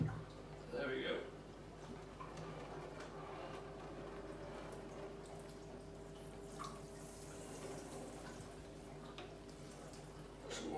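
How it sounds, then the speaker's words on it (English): Water trickling and splashing steadily from a cut-open sulphur/nitrate aquarium reactor into a bucket, a soft continuous flow with low hum underneath, people speaking briefly at the start. "Some water coming out."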